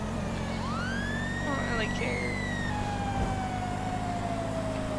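Wailing emergency siren in the video game GTA Online, one long rising sweep that then slowly falls, over a constant low engine drone, while someone speaks briefly.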